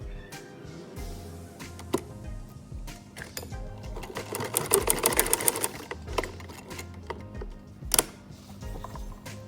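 A sewing machine runs in bursts, stitching a kurta seam, its rapid mechanical rattle starting and stopping close by with short pauses between runs.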